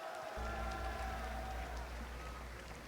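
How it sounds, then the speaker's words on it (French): Sustained applause and cheering from an audience for a player on stage at a MultiVersus tournament final at Paris Games Week, a dense steady wash of clapping that fades slightly toward the end. "s'il vous plaît, un tonnerre d'applaudissements pour Psycho Quax et son parcours"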